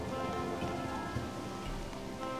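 Rain in the video game Harvest Moon: Animal Parade falls as a steady, dense hiss of drops. It carries on evenly throughout with a low rumbling underneath and no voices.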